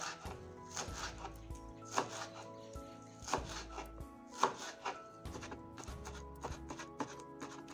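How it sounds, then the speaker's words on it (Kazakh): A knife chops green onions in quick, irregular bursts of crisp taps. The chopping is close but quiet, with soft background tones underneath. "Пышақтың көмегімен жақсылап турап аламыз"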